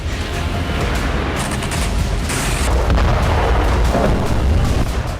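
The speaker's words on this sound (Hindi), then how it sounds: "लेपर्ड टैंक से यूक्रेन लगातार गोलाबारी कर रहा है।" Heavy, rumbling booms of Leopard tank fire and artillery around Zaporizhzhia, a dense, loud low-frequency barrage with rolling blasts blending together over several seconds, no voices.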